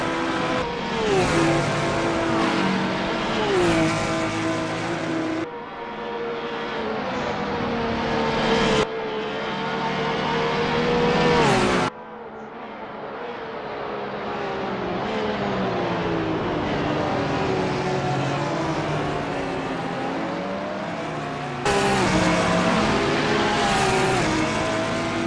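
GT race cars, including a Porsche, roar through a corner at Virginia International Raceway, engines rising in pitch as they accelerate out and shift gears, loud and close with several cars overlapping.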